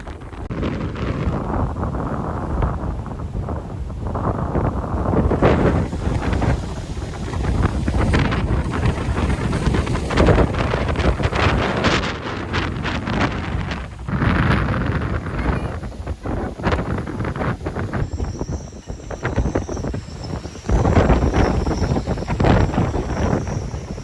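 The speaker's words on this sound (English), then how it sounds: "A little windy out here." Strong wind gusts buffet a boat in the tropics after Hurricane Nora passed through Banderas Bay, Mexico, a continuous loud roar of wind over the microphone with rushing water beneath and no talk.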